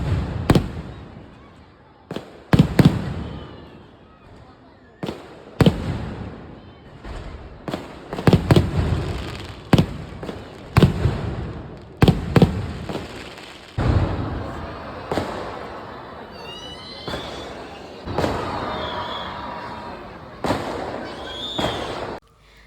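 Fireworks at a church festival in Kerala crack and boom in repeated bursts, some loud and close, others more distant, with crowd noise and crackling between the blasts.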